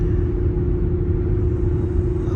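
Cooper Endurance Plus tires on a car after rotation, a loud continuous low road roar and droning hum inside the cabin, steady throughout with no talking.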